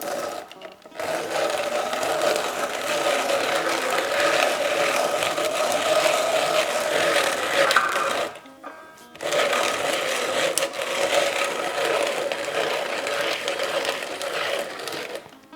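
A kitchen blender with a grinding blade pulverizes almonds into powder, a loud continuous whirring roar that cuts out briefly midway, then resumes and runs steadily to the end.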